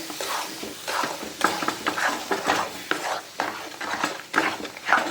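Moong dal halwa with sugar and ghee being stirred in a pan: steady rhythmic scraping and soft sizzling strokes repeating about every half second, close and moderately loud, with no talking.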